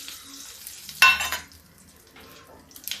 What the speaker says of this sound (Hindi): ये देखिए राई तड़कने लग गई है